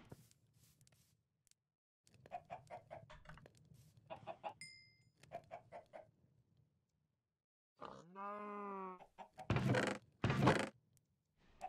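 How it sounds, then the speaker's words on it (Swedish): Chickens in the Minecraft video game, short clucks and squawks scattered in bursts with gaps of quiet between them, fairly faint, ending in a louder cluster of calls. "Jag har fått tre kycklingar."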